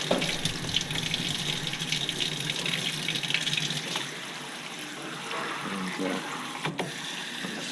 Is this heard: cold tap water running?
yes